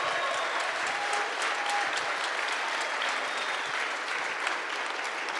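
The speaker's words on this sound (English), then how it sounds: "Can we please give a big round of applause to all the teams that competed today?" Audience applause for robotics teams at a VEX Robotics competition event, dense sustained clapping from a large crowd, steady and loud throughout.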